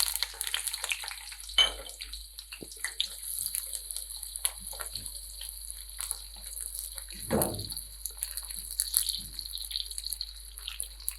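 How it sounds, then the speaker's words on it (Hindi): Chopped onions frying in hot oil in a pan for an aloo matar gosht, a faint steady sizzle with a few louder crackles and stirs, no talking. "अब हम प्याज़ों को बिल्कुल हल्का सा सुनहरी होने तक फ्राई करेंगे"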